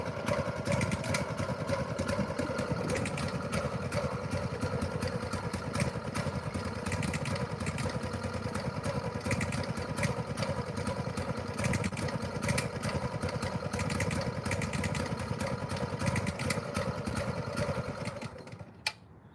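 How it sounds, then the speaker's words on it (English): A newly installed scooter engine runs steadily at close range, giving a constant buzzing, rattling drone at moderate level before cutting out at the end. "see if that doesn't sound like a good noise to be coming from an engine"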